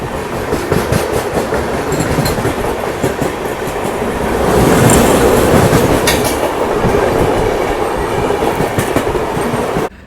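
An Indian sleeper class superfast express train running on rails, with steady rumbling wheel noise and clickety-clack from the carriage that swells midway, then cuts off abruptly at the end.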